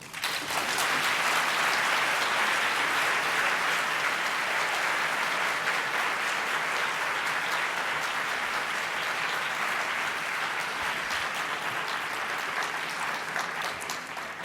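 An audience at a plenary lecture applauds to welcome Judith Butler, with sustained, dense clapping from a large crowd that holds steady and then slowly eases off over about fourteen seconds.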